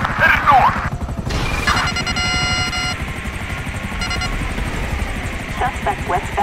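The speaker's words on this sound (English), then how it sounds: "military helicopter." A military helicopter in the video game GTA 5 thunders close overhead with a loud, steady rotor chop throughout, while radio chatter and game effects sound over it.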